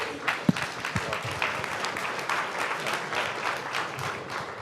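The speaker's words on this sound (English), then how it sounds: "Can we get a round of applause?" A tech talk audience at TechTO in Toronto gives a steady round of applause, moderately distant and even, with a couple of sharper nearby claps early on.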